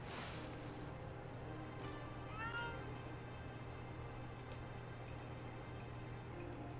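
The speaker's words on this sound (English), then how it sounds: "There's a kitty cat over there." Cat meowing in the video game Okami, a single short meow near the start over a faint steady hum, followed by quieter game sounds.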